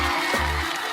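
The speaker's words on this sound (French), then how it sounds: "Applaudissez avec moi Loubna Aboukassim." An audience bursts into applause as a guest is welcomed onto a talk show, a dense, steady wash of clapping filling a single brief second.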